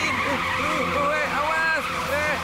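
A cartoon car skids on a slippery wet road with a wavering, whistling tire squeal that repeats in several swoops. Animated voices talk over it.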